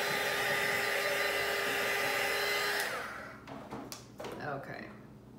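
A heat tool blows steadily over an alcohol ink suncatcher for about three seconds, a loud even whoosh, then cuts off, leaving quieter handling clatter and a brief voice.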